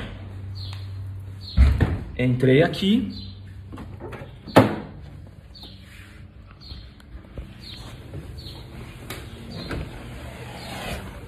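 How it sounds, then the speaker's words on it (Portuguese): The door of a Lamborghini Huracan Spider Evo in Dubai gives a solid clunk near the start and another sharp knock a few seconds later, with someone talking around both sounds. "Abri aqui a porta."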